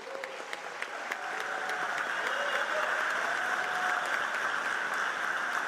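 A chamber audience applauds the Illinois Attorney General Kwame Raoul at a budget address, steady dense clapping that swells after the first second and holds at a fairly distant, even level.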